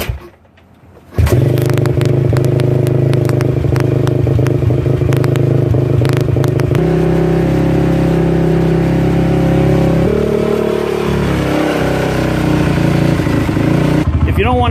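A Honda TRX450R ATV engine kicks over from cold after a short quiet moment, then catches and runs loud and close with a rough, crackling idle that shifts in pitch as it settles; a voice talks over it.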